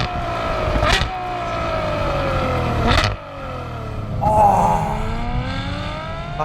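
A Ferrari 812 Superfast V12 engine downshifts on a wet road, with sharp blips at each change and falling, throaty revs between, loud and close with no talking.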